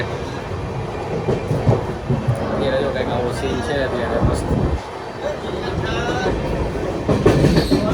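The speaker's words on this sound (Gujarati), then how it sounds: "અત્યારે જો ટ્રેન પહોંચી ગઈ છે વિરમગામ ને" A passenger train rumbles along the rails near Viramgam with rhythmic clatter and occasional squeals, while a person talks over the steady noise.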